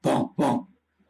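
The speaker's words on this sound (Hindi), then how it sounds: "लेकिन कुत्ते भौंक रहे हैं" Two loud, close dog barks in quick succession, each about a fifth of a second, followed by a faint trailing whimper and then quiet, heard during a police team's search of a haunted mansion.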